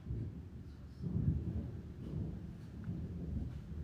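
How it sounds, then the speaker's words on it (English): Low rolling thunder rumbles steadily through an indoor space, heard from inside an antique store, with no voices over it. "Is that thunder?"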